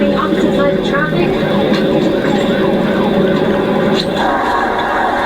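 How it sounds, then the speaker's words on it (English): A stolen sheriff's deputy patrol car runs lights and siren against traffic, its wail steady under a rushing engine and road noise, with voices faint in the background. "She has lights and sirens on, running opposite sides of traffic."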